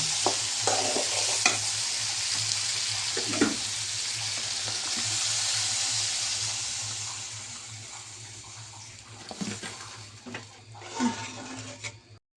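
Fish curry with bitter gourd simmering and sizzling in a frying pan as water goes in, a steady broad hiss with scraping stirs and a few louder splashy knocks near the end, no talking.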